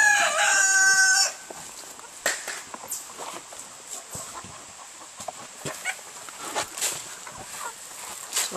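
A rooster crows loudly at the start, then chickens cluck and rustle at scattered moments on a farm during morning rounds, close by and without speech.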